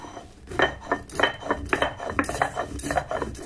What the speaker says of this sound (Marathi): आता वेलची मी पाट्यावर वाटून घेणार आहे